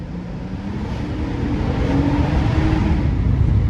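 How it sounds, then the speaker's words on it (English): A 2020 Acura TLX with the V6 and SH-AWD being driven, heard from inside the cabin: a steady engine drone with road noise that swells louder as the car accelerates over a few seconds. "she still screams though. That V6, it wants so badly to sing and dance the way that it knows it can"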